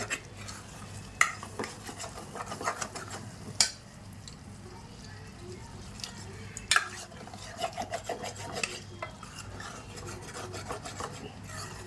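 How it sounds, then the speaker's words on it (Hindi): Masala being stirred into green peas in a pan for matar nimona, rough scraping and rubbing of a spatula against the pan with occasional sharp metal knocks over a faint sizzle. "ये मटर डालने के बाद जो भी हमारा ये मसाला है सब अच्छे से इसमें मिक्स कर लेना है।"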